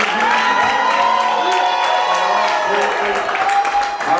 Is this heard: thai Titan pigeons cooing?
no